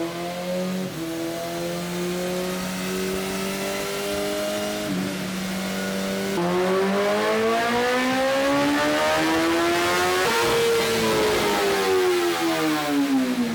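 A 2019 BMW S1000RR motorcycle engine revs hard on a dyno through the gears, a loud continuous engine tone climbing in pitch, dropping slightly at each shift, then rising again.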